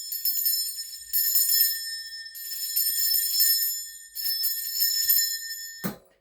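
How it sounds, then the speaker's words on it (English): A small, high, bright bell is shaken in three jingling bursts with short pauses between them, shimmering and close, ending in a soft clunk as it is set down. "I am going to be ringing a bell just to cleanse the space around us."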